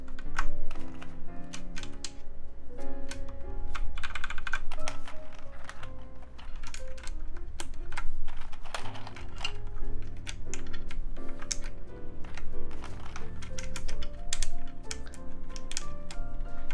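Steady, continuous typing on a KMAC LE mechanical keyboard with lubed MX Black switches, a fairly loud run of dense keystrokes with a hollow, clacky character and no talking.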